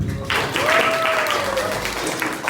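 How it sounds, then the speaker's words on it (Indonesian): A short burst of applause from a small group, clapping together at moderate volume while someone speaks over it. "Silakan tepuk tangan."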